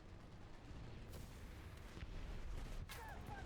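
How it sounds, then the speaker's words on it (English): Artillery fire in the War Thunder video game, heard as a rolling series of deep booms and blasts over a constant low rumble, with sharper hits near the middle and end; no talking. "who's calling artillery on me?"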